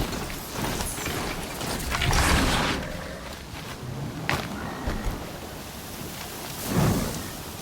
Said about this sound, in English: Winds are driving up a storm.